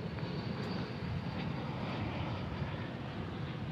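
UPS cargo airplane taking off from Dallas Fort Worth International Airport, a steady distant engine roar at low volume, continuous without talk.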